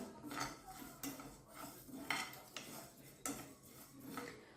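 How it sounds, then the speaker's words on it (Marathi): Cumin seeds dry-roasting in a pan on the stove, with repeated metallic scrapes and clinks of a spoon stirring against the pan at an irregular rhythm, close and moderately loud with no talk. "एका वाटीमध्ये म्हणजे पाऊण वाटी जिरे घेतलेले आहेत ते आपण आता छान असे भाजून घेऊया"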